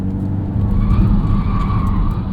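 Continental tires on a 2023 BMW X1 xDrive28i squeal as the car understeers through a corner, a sustained tonal whine riding over heavy road and engine rumble from inside the cabin, without talking.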